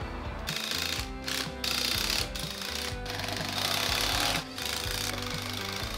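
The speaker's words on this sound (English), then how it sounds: "now I can set in the new window and attach it with screws all along the nail flange" A power drill drives screws along the nail flange of a new window during a kitchen renovation, giving loud, close whirring bursts with changing pitch, brief stops between screws and a rattling mechanical edge.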